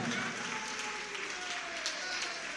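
Steady applause from an audience at a religious discourse auction, a dense continuous patter of clapping held for the whole moment, with faint voices underneath.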